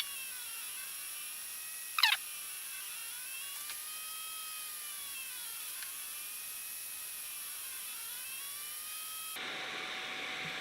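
A Longer Ray5 10W laser cuts through 5mm acrylic with a thin, steady high-pitched whine that holds throughout, broken by one brief sharp blip near the start, with a slight change in tone toward the end.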